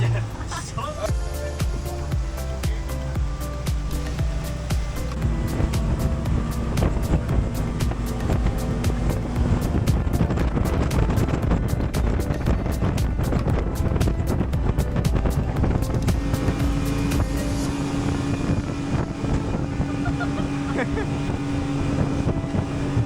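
A tour boat's motor roars steadily across the water at Kilim Geoforest Park in Langkawi, a constant close engine drone with wind buffeting the microphone throughout.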